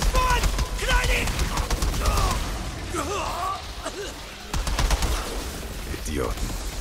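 Rapid gunfire bursts crackle through a frantic firefight in the shooter game Outriders, layered with shouting voices and chaotic combat noise.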